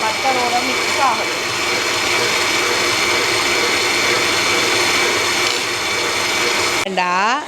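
An electric mixer drones loudly and continuously while beating butter into cake batter, a steady motor whine that cuts off near the end, followed by a brief rising whir.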